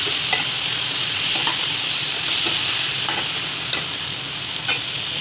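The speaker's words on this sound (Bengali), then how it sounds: "এবার এর মধ্যে ভাজা চিংড়ি মাছগুলো সব দিয়ে দিলাম। দিয়ে ভালো করে নেড়ে চেড়ে নিলাম।" Fried prawns being stirred with pointed gourd in an oily pan, a steady close sizzle with scrapes of the spatula repeating every second or so.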